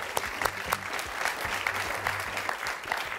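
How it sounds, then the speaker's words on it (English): Steady audience applause fills a high school quiz show quarterfinal between Lexington and Wellesley, a dense even clatter of many hands lasting throughout, with a faint low tonal hum underneath. "Let's hear it. Nice round of applause."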